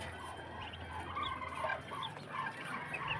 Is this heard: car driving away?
no